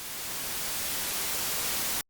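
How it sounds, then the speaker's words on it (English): A white noise test signal, a loud even hiss across the whole range, steady and unbroken for about two seconds before it cuts off abruptly. "our beautiful white noise"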